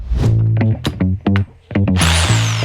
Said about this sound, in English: So I'm going to drill above it, slight angle because these walls are offset.